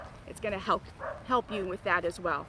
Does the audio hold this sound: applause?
no